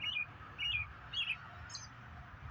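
A small bird tweets three short, bright chirping phrases in a row, then gives one fainter call, over a soft low background hum.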